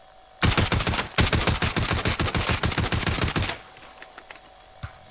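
Automatic gunfire from a weapon in Call of Duty Warzone, one long rapid burst with a short gap near the start, then the shots stop and faint game noise remains.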